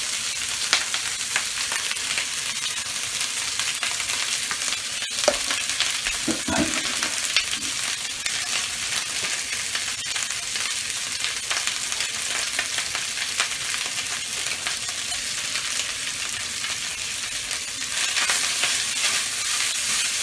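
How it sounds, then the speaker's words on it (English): Rice fries in a hot pan for fried rice, giving a steady, loud, continuous sizzle with a brief stir or clank partway through and no voices. "with my rice. We're gonna fry that up."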